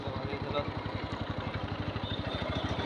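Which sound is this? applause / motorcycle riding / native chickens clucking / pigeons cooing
motorcycle riding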